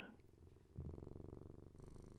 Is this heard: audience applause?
no